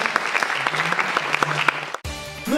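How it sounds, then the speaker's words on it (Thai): An audience claps for stage actors in a steady burst of applause that cuts off abruptly near the end, followed by a brief musical sound. "ขอเสียงปรบมือให้กับนักแสดงทุกท่านด้วยนะ"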